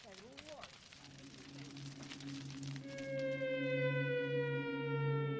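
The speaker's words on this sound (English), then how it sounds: "To the frightening sound of air raid sirens" A wailing air raid siren rises and holds a steady, piercing tone, with a second siren layered beneath it; loud, sustained, and growing stronger over time.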